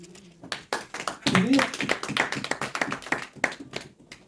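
A church congregation clapping in acclamation after a scripture reading, a dense run of rhythmic handclaps with voices mixed in throughout.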